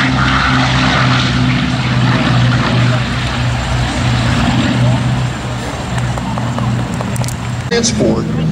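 A WWII-era propeller warbird painted in invasion stripes flies at the Sun 'n Fun air show, its engine droning steadily and loudly throughout with a strong, even hum, while voices talk underneath.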